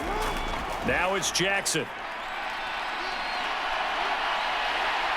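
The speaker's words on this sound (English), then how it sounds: "The crowd here in the Dome making things difficult." Steady, loud crowd roar fills the Dome during a 2022 NFL game between the Baltimore Ravens and New Orleans Saints, running throughout beneath a commentator's voice.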